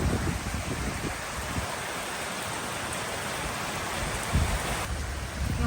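Heavy rain pours steadily onto garden plants, a dense, even hiss of falling water with no pauses, moderately loud and heard alone without talk.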